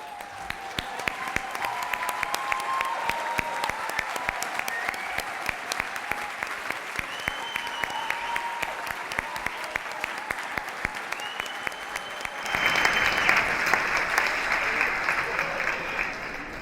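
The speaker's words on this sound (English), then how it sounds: "let's give them a huge round of applause" Sustained applause from a large audience, dense clapping throughout that swells louder near the end, with some cheering and voices mixed in.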